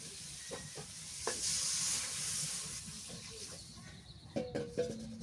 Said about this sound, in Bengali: এবার দিয়ে দিই পানি।